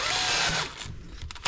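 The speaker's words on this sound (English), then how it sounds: "Now I will attach the bit to my drill" A power drill whirs steadily with a bit attached during a garden hose repair, then slows and stops before a brief burst restarts at the end, close and fairly loud.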